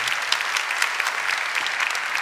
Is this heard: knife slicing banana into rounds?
no